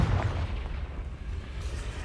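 A Confringo fire-blast spell in Hogwarts Legacy detonating as a deep, booming explosion with a rumbling tail, loud and close, no talking.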